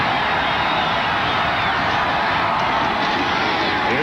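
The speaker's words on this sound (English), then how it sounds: "The crowd approves of the move." A college football stadium crowd at Duke versus Florida State cheers a play with a loud, sustained roar that holds steady throughout, with no distinct voice above it.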